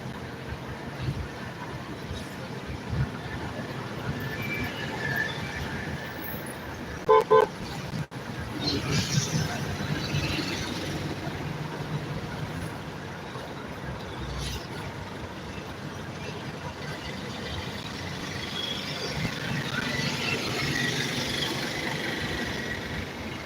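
A car driving at night through road traffic, with a steady engine and road rumble, a few horn toots and passing vehicles, and a person talking over the noise.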